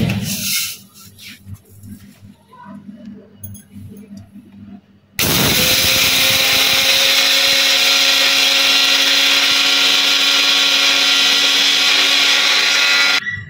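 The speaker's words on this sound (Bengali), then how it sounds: "এটা আমি আগে ব্লেন্ডারে একটু গুঁড়ো করে নেব।" An electric kitchen blender starts abruptly partway through and runs at a loud, steady high whir for several seconds, grinding white and red mustard seeds into powder, after some quieter handling sounds.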